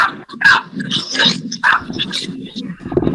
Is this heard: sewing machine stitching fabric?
no